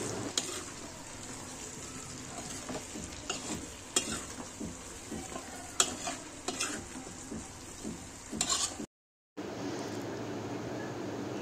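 Stalk vegetable curry (a wild monsoon greens dish) stirred in a pan, with steady sizzling and repeated scraping strokes of a spoon, close and moderately loud, cut briefly by a short gap near the end.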